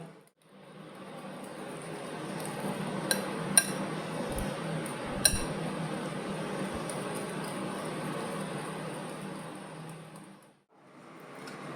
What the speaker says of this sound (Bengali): সমস্ত উপকরণগুলোকে একটু ভালো করে ফেটিয়ে নিতে হবে